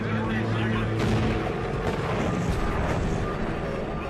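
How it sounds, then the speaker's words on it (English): Explosion in an airplane engine as a left wing snaps off during a crash, heard as a dense, sustained roaring rumble with rough low-end bursts and crackle, loud and continuous throughout. "The breakage causes an explosion in the engine"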